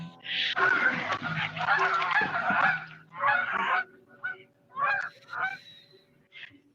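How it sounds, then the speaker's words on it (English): Geese honking nearby in a series of loud, ragged calls, several overlapping at first and then in shorter separate bursts with brief pauses between. "But now I'm here looking at them and I'm pretty sure they're geese."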